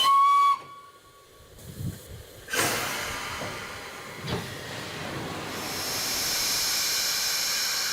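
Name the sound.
steam hissing from Tornado steam locomotive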